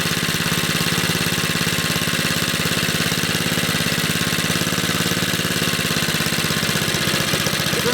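Briggs & Stratton 2hp small petrol engine running alone with a steady rapid firing pulse, close and loud, its revs hunting slightly up and down throughout.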